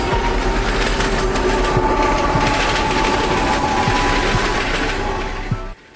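A NASA freight train hauling rocket boosters races through the night toward Jacksonville, Florida, its steady rumble and wheel clatter loud and continuous with rhythmic clicks over the rails before abruptly cutting off near the end.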